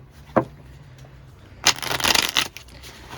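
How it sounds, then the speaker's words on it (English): Tarot cards being shuffled by hand, with a short riffle near the start and a longer burst of rapid flutter and shuffling later, close and fairly loud over a low steady hum. "that was terrible shuffle. Let me try that again."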